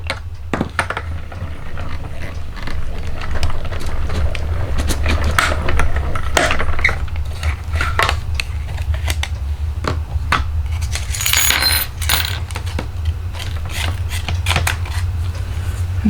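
A die cutting machine with its cover plate in place is hand-cranked, giving a steady low rumble under a continuous run of small clicks, ticks and metallic rattles for the whole stretch.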